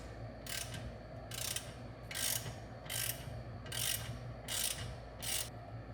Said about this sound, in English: so you're gonna have to use a socket wrench.